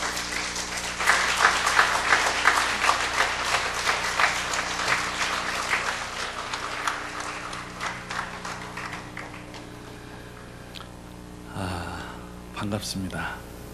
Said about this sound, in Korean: 큰 박수로 환영해 주시기를 바랍니다